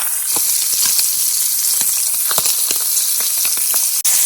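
Brook trout fry in a pan with a loud, steady sizzle and hiss, dotted with frequent small pops and crackles from the hot oil.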